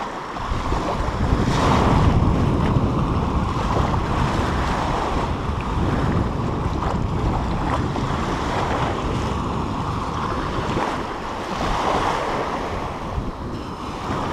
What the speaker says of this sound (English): Kind of a edge here along the surf line where the little waves come in and roll a little bit.